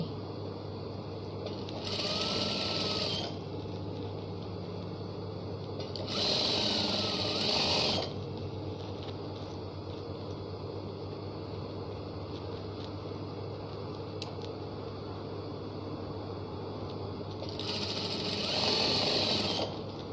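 Sewing machine stitching fabric, running in three separate bursts of about two seconds each, with quiet room hum in the gaps between them.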